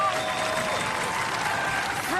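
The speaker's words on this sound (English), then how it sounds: "Give him a round of applause!" Audience applause and cheering in a television robot combat arena, a steady loud wash of clapping crowd noise throughout, with a host's voice speaking over it.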